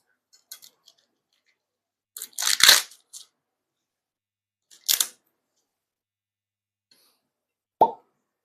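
An Elijah Craig bourbon bottle is worked open: a few small scrapes, a crunchy twist of the seal, then a single sharp cork pop, with a short thud near the end; no talking.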